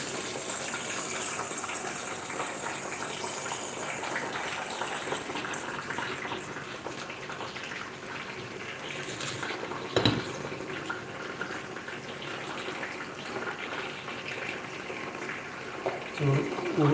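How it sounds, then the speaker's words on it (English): Water gushes steadily into a pot of beans being cooked for African rice, a continuous rushing pour that runs close and fairly loud throughout, with a brief clunk near the end. "So I'm going to add water so we get the red color"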